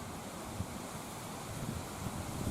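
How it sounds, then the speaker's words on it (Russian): Strong, cold wind buffets the microphone in a constant roaring rush at a village plot, broadband and unbroken, with no voices. "Ой, ветер такой."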